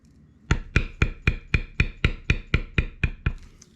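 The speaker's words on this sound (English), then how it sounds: "I'm going to bevel one side of the line, flip it, and then bevel these sides." A leather beveling tool is struck repeatedly with a mallet along the lines of a basketweave tooling pattern. About twelve sharp, evenly spaced taps fall in a steady rhythm, each one close and crisp, and no one speaks.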